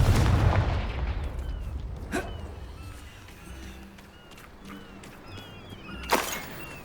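A Confringo fire spell blast in Hogwarts Legacy, heard as a heavy boom at the start that fades into a quiet, low ambience, followed later by a second sharp, bright burst.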